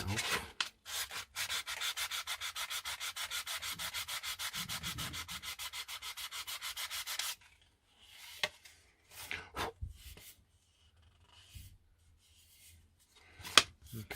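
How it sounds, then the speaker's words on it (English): Filler on a car door mirror cover is sanded by hand in a fast, even run of rasping back-and-forth strokes for several seconds, followed by scattered rubs, taps and handling noises. "Let's just sand that out."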